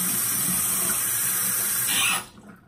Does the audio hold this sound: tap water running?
yes